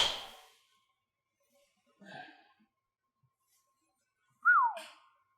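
A golfer hits a Ping G430 MAX SFT LST driver: a sharp strike at the start, a soft brief rustle, then a loud, short falling whistle near the end.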